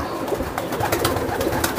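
A racing pigeon coos close by at a large racing-pigeon loft, soft throaty calls over busy background noise.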